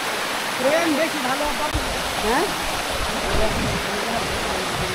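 Napittachora Waterfall in Mirsarai, Bangladesh, roars at its lowest step in a constant broad rush, with a few voices calling out faintly above the steady flow of water.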